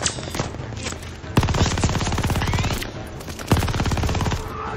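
Mounted machine gun in Call of Duty Vanguard fires in long, loud sustained bursts of rapid rounds, with sharp heavier reports near the start, in the middle and toward the end.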